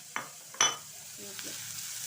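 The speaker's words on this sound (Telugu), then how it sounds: "ఇప్పుడు కొంచెం నూనె వేసి కూర కూడా వేయించుకోవాలి" Vegetable pieces fry in oil in a pan, a faint, close sizzle broken by a couple of sharp utensil scrapes and clinks.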